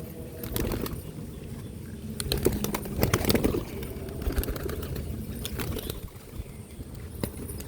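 Pigeons kept as domestic flock birds, including a Rampuri pigeon, coo softly in a steady mid-level murmur with scattered wing flutters and sharp taps, all set against constant outdoor background noise.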